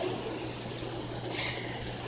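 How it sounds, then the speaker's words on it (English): Heavy rain pours during a strong storm in Des Moines, a dense, steady wash of noise that holds evenly throughout without voices. "And it is pouring over here in Des Moines."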